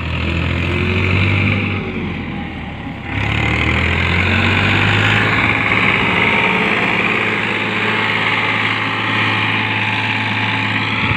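A Farmtrac Champion tractor engine idles loudly and steadily nearby, a constant droning hum with a slight change in pitch early on.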